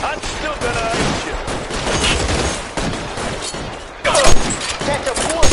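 Loud, dense gunfire in an L.A. Noire shootout, with overlapping volleys of shots throughout and a sharp burst near the end, mixed with shouting voices.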